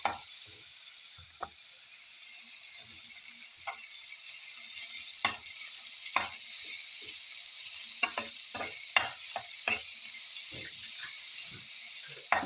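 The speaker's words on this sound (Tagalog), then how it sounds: "put little oil here in pan, and then I have to put this one, this chicken here," Chicken pieces fry in a little oil in a pan with a steady, close sizzle, while a utensil stirs and scrapes now and then in scattered clicks over the hiss.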